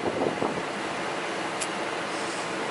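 Wind rushing steadily across the microphone, a loud, broad blustery roar with a few gusty buffets near the start.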